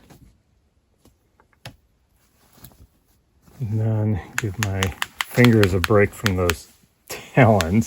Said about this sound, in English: That clicking noise you're hearing is actually the beak of the bird trying to scare me away